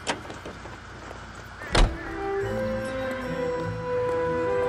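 A car in the L.A. Noire video game gives a sharp thud, then a steady engine hum that rises in pitch as it drives off, close and moderately loud, with no talking.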